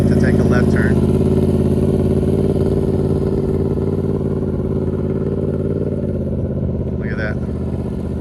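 A Yamaha R1 motorcycle runs steadily in first gear with clutch work during a learner's ride, its engine a continuous close drone throughout, with brief voices audible at the start and near the end.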